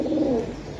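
A pigeon, one of a pair of red pigeons kept with Budapest and Giribaz breeds, gives a single short, loud, throaty coo close up that fades within a second.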